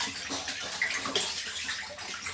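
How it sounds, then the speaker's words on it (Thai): Water pours and splashes steadily into a 1000-litre catfish tank during a water change, a close, continuous gushing with small gurgles throughout. "นี่กำลังเปลี่ยนน้ำนะครับ"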